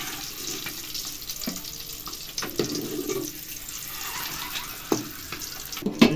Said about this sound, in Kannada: ಸ್ವಲ್ಪ ಎಣ್ಣೆ ಫ್ರೈ ಮಾಡ್ಕೊಂಡ್ರೆ ಸಾಕು